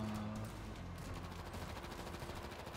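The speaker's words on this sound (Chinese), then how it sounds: "在努力用机枪射了" A machine gun fires in the 2019 video game World War Z, sounding as a rapid, continuous rattle of shots. It stays fairly faint and steady throughout.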